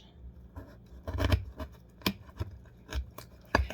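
A knife slices a lime half into wedges on a board, giving a few soft crunchy cuts and taps spaced irregularly, close and fairly quiet, with no talking.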